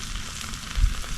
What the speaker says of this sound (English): As you can see, we oiled up the Blackstone, and now we have them frying here.